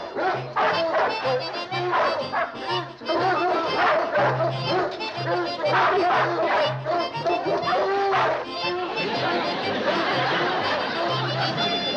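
A dog barks in short bursts and whimpers amid a noisy scene on a farm, with people talking and laughing over it, the yips loud and close.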